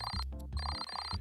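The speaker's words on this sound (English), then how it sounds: "That's the phone." Telephone ringing in a video game, a bright electronic ringtone repeating in quick pulses over a low background drone, short and fairly quiet.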